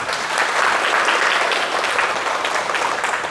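An audience at a spoken lecture applauds: dense, steady clapping from many hands that fills the room continuously throughout, fairly loud and even without pauses.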